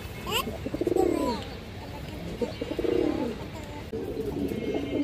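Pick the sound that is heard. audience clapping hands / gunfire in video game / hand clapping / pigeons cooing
pigeons cooing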